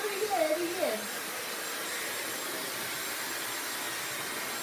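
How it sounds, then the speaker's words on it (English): A Dyson vacuum cleaner runs with a loud, even motor whine and airflow roar. A voice speaks briefly at the start before the machine carries on alone. "The vacuum that we have right now, the Dyson"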